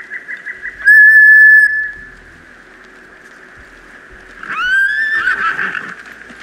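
Horses in the samurai game Ghost of Tsushima give two loud, shrill whinnies, one early and one later, over a steady high whistling tone and faint hoof clatter.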